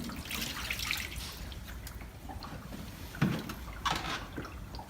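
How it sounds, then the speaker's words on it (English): Water trickling and dripping out of the drainage holes at the bottom of an indoor plant pot after the soil is watered, a soft, steady low-level wash with a few small splashes and no voices. "I can hear the water coming out the bottom"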